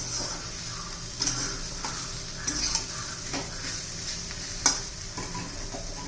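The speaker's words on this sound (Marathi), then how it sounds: "चांगलं 2-4 मिनिटं परतून घेऊ भेंडी." Okra and gram flour stir-fried in a pan, with steady sizzling broken by frequent scraping stirs and a few sharp clinks of a spatula against the pan.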